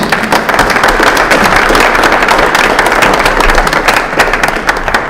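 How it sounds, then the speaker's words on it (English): An audience at a community policing discussion applauds the panelists with dense, sustained clapping that stays loud and even throughout, with no speech over it. "Give them another round of applause, please."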